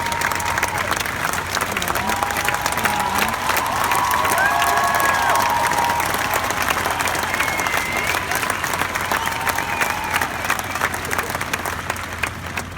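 A large crowd claps and cheers steadily throughout, the applause loud and dense with scattered whoops, tapering slightly at the end, at an event celebrating wounded and ill service members at the Invictus Games.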